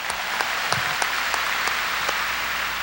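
A 1992 Sunday worship congregation claps loudly in praise during a sermon, sustained full-room applause with a few sharper claps cutting through at intervals.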